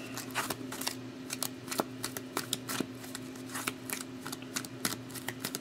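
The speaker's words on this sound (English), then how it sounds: "I'll give them a good shuffle." Quick, crisp clicking and riffling of hockey trading cards being shuffled close by, irregular bursts over a steady low hum.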